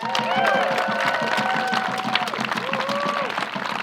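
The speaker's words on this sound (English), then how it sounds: "Can we give them a big round of applause?" Crowd applause and cheering at an outdoor Hands Off the EPA protest in Ann Arbor, Michigan, a steady mass of clapping with voices and whistles sliding over it, fairly loud and sustained.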